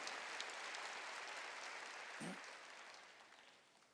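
A church congregation claps during a Korean worship service, producing a broad, steady wash of many hands that holds evenly and then gradually tapers off, with a brief low thump partway through.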